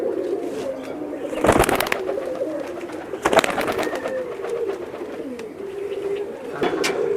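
Young Rajshahi local Giribaj pigeons coo softly and steadily in a loft, with a few sharp wing flaps and bumps breaking in.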